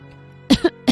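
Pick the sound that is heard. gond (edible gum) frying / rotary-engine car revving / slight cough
slight cough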